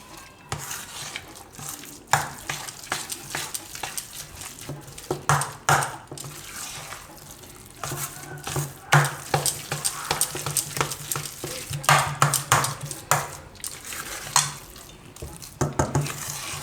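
Leftover roti dhokla batter is stirred steadily in a bowl, producing continuous wet squelching and scraping with occasional clinks of the spoon against the rim, close and without any talking.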